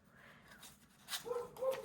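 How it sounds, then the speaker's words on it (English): Several dogs bark faintly in the distance, giving a few short, soft yips near the end over a quiet background. "the dogs are starting to bark"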